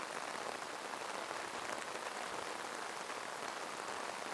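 Steady, dense rain falls over a Kerala village paddy field during seedling-pulling season, a continuous even hiss with no breaks and no voices.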